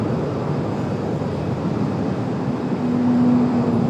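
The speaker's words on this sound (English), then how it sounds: "But an A220 making quite the noise." An Airbus A220 airliner at Raleigh-Durham International Airport gives off a steady, loud broadband engine roar that swells slightly toward the end, with a faint whine over the rumble.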